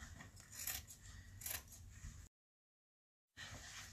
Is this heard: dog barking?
no